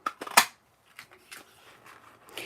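A 2 3/8 inch circle punch snaps through red paper strips, giving two sharp, close clicks near the start, then quieter handling rustles.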